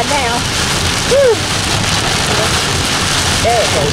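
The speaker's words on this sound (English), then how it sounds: "we told y'all it was raining" Heavy rain pounding on a moving vehicle while driving, a loud continuous hiss and patter that fills the cabin, with brief voiced sounds from people inside breaking through at moments.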